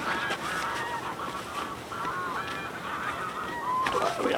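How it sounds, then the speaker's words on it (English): Flock of geese on the Norfolk Broads keeps up a chorus of overlapping honks at moderate distance, steady throughout, with one louder nearer call near the end. "And then we can relax and listen to the geese."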